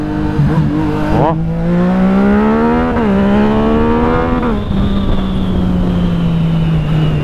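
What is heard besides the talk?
motorcycle engine revving with exhaust pops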